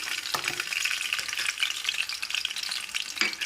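Chopped green chillies and garlic sizzle and crackle in hot oil in a pan, a continuous bright frying hiss with occasional sharper pops and stirring scrapes, and no voices.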